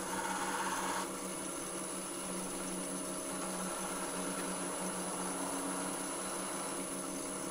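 A gouge cutting a spinning piece of wood on a lathe, a steady, continuous rasping hiss over a motor hum, close and unbroken, louder for the first second and then even.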